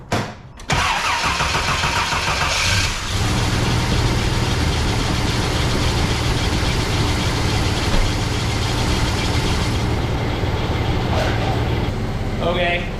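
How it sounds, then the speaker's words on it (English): A 1988 Toyota FJ62 with 290K miles cranks briefly and catches, then settles into a loud, steady close-up idle that runs on without pause; no one talks over it. "Let's get the engine warmed up first. All right, let me start this thing."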